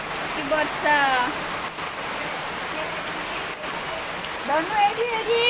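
Sudden rain after a hot spell pours down in a steady broadband hiss, while voices talk over it at the start and again near the end.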